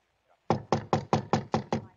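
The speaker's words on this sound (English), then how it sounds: "I found number 658, knocked on the door of flat number 6." Seven even, firm knocks on the door of a city apartment flat, close and sharp, in steady rhythm after a brief quiet moment.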